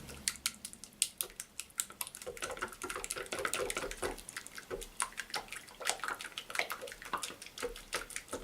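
Paint thinned with thinners is stirred in a can for hand-painting Lloyd Loom furniture, a steady run of quick wet clicks and sloshing taps, close and fairly quiet.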